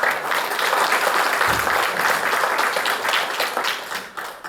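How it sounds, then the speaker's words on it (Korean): A church congregation gives a big round of applause during a Sunday service, steady, full clapping throughout that thins slightly at the end. "우리 큰 박수를 맞이해 주시죠."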